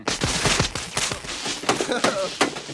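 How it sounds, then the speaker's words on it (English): Fireworks crackle and pop in rapid bursts, a dense, loud series of sharp bangs with irregular rhythm. "Fireworks."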